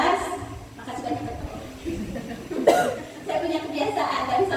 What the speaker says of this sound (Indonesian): kalau nyaring sedikit batuk